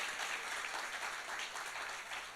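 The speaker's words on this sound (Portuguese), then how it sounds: "Aplauda ele por isso, amém?" A church congregation applauds in steady, dense clapping throughout, full and close, with no break.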